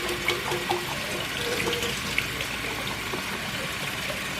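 Water splashing and draining as canned beans are rinsed and shaken in a kitchen, a steady close rushing wash with a few small clinks, no talking.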